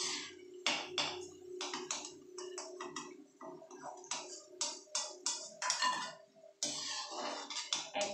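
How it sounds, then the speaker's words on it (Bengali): Crispy fried potato snacks being moved onto a plate, a run of sharp, irregular clicks and crunchy taps close by, with short pauses between clusters and no voices. "একদম মচমচে হয়েছে, আওয়াজেই বুঝতে পারবেন"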